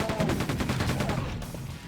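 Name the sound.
machine gun firing in the Quake 2 video game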